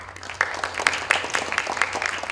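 An audience at an information security festival welcomes a professor with applause, a scattering of claps and light cheering at moderate volume beneath a faint hum.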